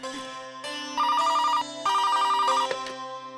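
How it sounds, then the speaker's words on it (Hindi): A telephone ringtone plays indoors, a bright electronic melodic ring repeating in two bursts with sustained tones, moderately loud and alone. "बस मैं तो फोन उठाने ही जाने वाली थी।"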